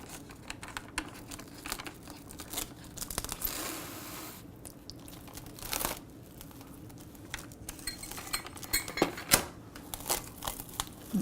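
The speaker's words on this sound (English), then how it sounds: "Now we want to cover it with plastic wrap." Plastic wrap is pulled off a roll and stretched tight over a bowl, giving close, continuous crinkling and crackling with sharper snaps and tearing bursts throughout.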